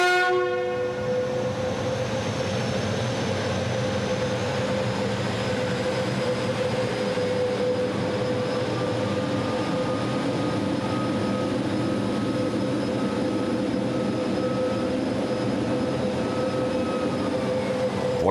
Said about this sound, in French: le turbotrain s'en retourne vers le dépôt de Vénissieux